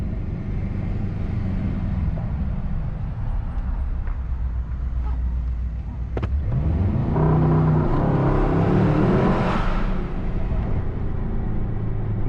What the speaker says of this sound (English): That was launch control, race start.